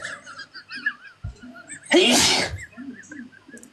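A single loud sneeze bursts out in the middle, with quiet voices and light chatter before and after it.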